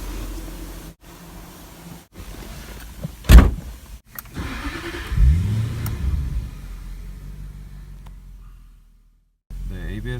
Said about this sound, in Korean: 브레이크 에어 빼는 작업하고 시동 한번 걸어 볼게요.